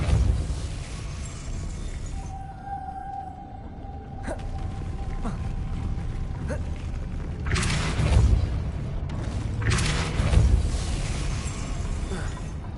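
Depulso spell blasts in the Hogwarts Legacy video game: several booming, whooshing bursts spread over the stretch, with the strongest hits in the latter half over a steady low rumble.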